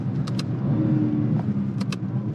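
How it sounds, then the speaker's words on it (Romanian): A BMW M3 Touring fitted with a particulate filter, its engine and exhaust droning steadily in a low, even rumble, heard from inside the car with a couple of faint light clicks and no talk. "Cam așa se aude sunetul natural al mașinii, pentru că are filtru de particule, dar auzi mai mult evacuare"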